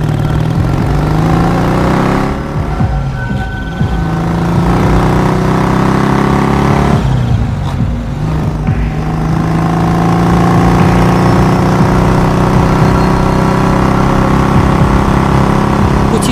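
Motorbike engine running loud and steady throughout, with two brief dips that sound like gear changes or revs as it rides off, and no talk over it.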